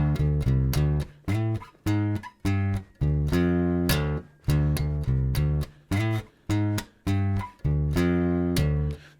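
Bass guitar plays a riff in time: a repeating pattern of punchy, clearly separated low notes in short phrases with gaps between them, loud and alone without talk.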